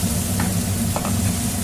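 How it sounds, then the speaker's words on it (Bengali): Chopped onions fry in a hot pan, giving a steady, close sizzle with a couple of faint stirring scrapes and no talking. "দিয়ে দেবো আগে থেকে কেটে রাখা পেঁয়াজ, দিয়ে ভেজে নেব"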